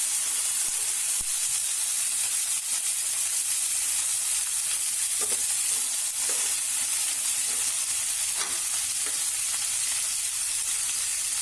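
Green chillies and tomatoes sizzle steadily in hot oil for chutney, a loud, constant close-up hiss with a few faint clinks of stirring beneath it.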